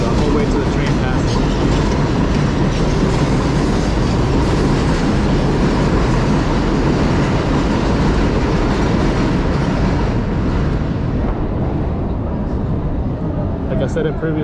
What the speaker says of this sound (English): hold on, we'll wait till the train passes.